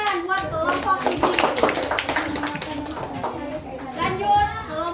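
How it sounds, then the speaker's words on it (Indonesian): Schoolchildren in a classroom clap for a group of classmates, a close, uneven patter of small hands mixed with children's chatter and a teacher's voice throughout. "Oke, tepuk tangan buat kelompok ini."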